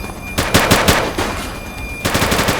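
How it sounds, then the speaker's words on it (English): Bursts of gunfire in the police video game The Precinct, loud rapid cracks in two clusters separated by a short lull with reverberant tails. "He's shooting!"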